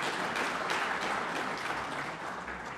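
Audience applause at a chamber of commerce assembly meeting, a dense steady clapping from a roomful of people that holds evenly throughout the short moment, close and full, with no talking over it.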